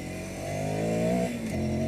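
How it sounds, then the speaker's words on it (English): Ducati Scrambler Sixty2 motorcycle on standard pipes, its intake drone rising and dipping briefly as the engine pulls, heard close and alone on a steep road in Kathmandu. "a lot of what you're hearing there sounds like induction noise rather than exhaust noise"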